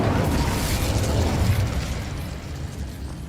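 Fire and blast spells, Confringo and Incendio, cast in Hogwarts Legacy, producing a loud, sustained roaring burst with a rumbling low end that slowly fades.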